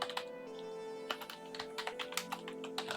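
Quick, uneven keystrokes clatter on a PC-9821 computer keyboard while someone enters a BASIC program. The taps are close and crisp and come in short bursts with brief pauses, and a steady electronic hum runs underneath.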